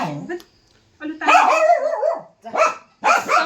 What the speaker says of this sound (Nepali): कुकुर आएर